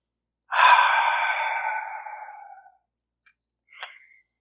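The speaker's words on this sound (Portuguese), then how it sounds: "continue respirando" Deep breathing during a guided spiritual meditation: one long, close breath lasting about two seconds and fading out, followed by quiet and a brief faint click or soft breath.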